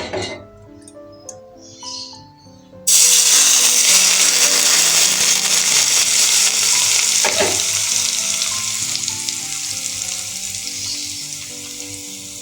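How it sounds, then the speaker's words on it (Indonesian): Cooking oil poured into a pan of chili sambal made with bird's eye chilies and seasoning bursts into a loud, steady sizzle of frying, with light clinks of a utensil stirring, over background music. "Baru kita masukin minyak gorengnya ya Bunda."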